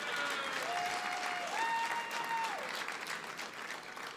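Audience applause at an annual trade-policy dinner, a sustained, moderately loud wash of clapping from a full room with a few brief whistles rising above it before it begins to thin.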